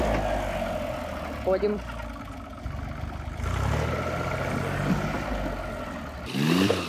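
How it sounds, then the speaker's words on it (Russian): A tractor engine idles and revs, rising and falling as it strains to pull a car dug deep into soft ground, while people talk briefly over the motor. "Трактор, как лошадь, становится на свечку."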